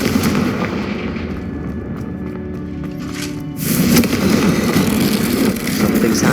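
Magical Confringo fire-spell blasts in the Hogwarts Legacy video game, a loud roaring burst of explosive noise that drops briefly then surges again near the middle, continuing as a dense rumbling barrage to the end.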